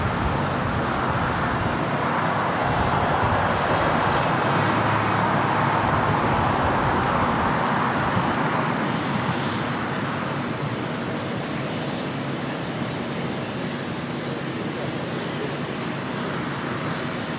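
An airliner taking off from runway 25 right at LAX after a long flight from Dubai, a broad steady engine roar swelling and then slowly fading, distant and continuous.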